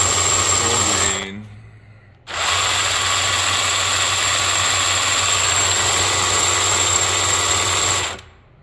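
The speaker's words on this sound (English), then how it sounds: "There's some vibration in the gearbox, but you're probably gonna have that." A motor-driven gearbox running with some vibration, a loud steady whine and hum that cuts out briefly, then restarts and runs evenly before stopping, close up with no talk.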